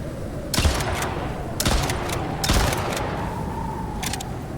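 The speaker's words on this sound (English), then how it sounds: "Lightning hit the ground just in front of the snow wolf." Lightning strikes in the survival game Icarus, heard as three sharp, loud cracks spaced about a second apart, each trailing off into a rumbling roll over steady ambient noise.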